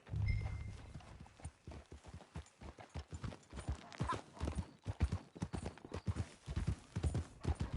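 Horse hooves clip-clop steadily along a trail in Red Dead Redemption 2, a brisk rhythmic run of close, loud hoofbeats with a low rumble at the very start.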